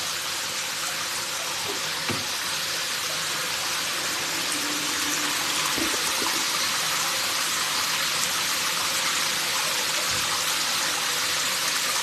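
Cool water runs steadily into a foot bath, a continuous broadband gush at even volume with no voices, just a couple of faint knocks partway through.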